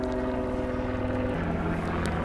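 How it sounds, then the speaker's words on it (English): Propeller aircraft droning steadily overhead during a rainy-day fishing session, a loud continuous engine hum with shifting tones that fills the whole stretch with no talk. "Sorry about the noise from all the aerial stuff today"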